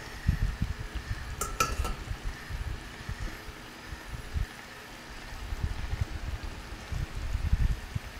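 Balaw, fermented shrimp, sizzles softly in a pan as it cooks down until oily, with low bubbling and occasional stirring scrapes, fairly quiet and steady throughout.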